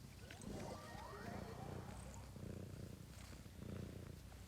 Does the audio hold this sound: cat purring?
yes